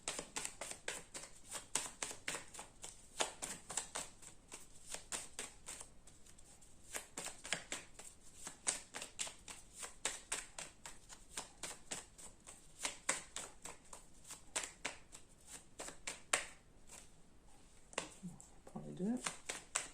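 A deck of playing cards used for an astrology card reading is shuffled with rapid, crisp riffling clicks that continue steadily throughout, while a voice speaks softly underneath.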